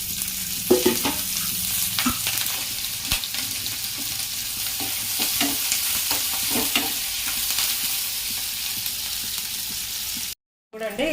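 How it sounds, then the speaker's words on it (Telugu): Green chilies sizzle and crackle in hot oil in a pan for Andhra gongura dal, with intermittent stirring clatter, close and moderately loud, ending in a brief cut to silence. "ఇదిగో పచ్చిమిరపకాయ ఇట్లా లైట్ వేగిన తర్వాత కొద్ది నూనె వేసుకుందాం."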